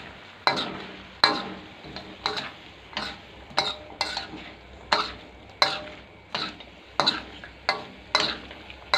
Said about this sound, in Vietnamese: Rồi, mình tiến hành xào thôi.